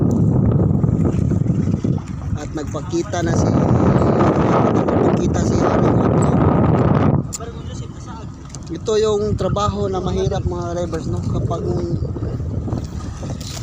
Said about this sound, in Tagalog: maalon at saka malakas pa yung hangin at saka ulan po